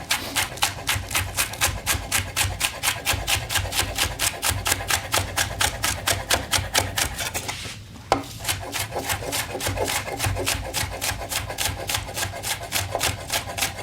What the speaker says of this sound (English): So I'm just going to cut this down the middle, and then just slice this up nice and finely.